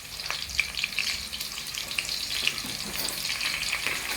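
Egusi soup frying in a pot while being stirred, a steady close sizzle with soft scraping strokes and small crackles running throughout, no voices.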